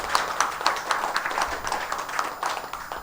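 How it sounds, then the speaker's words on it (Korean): Audience applause at a Korean residents' autonomy colloquium, honoring the association chairman, a moderate, steady patter of many hands clapping for about three seconds, without speech. "박수 한번 일단 먼저 치시죠"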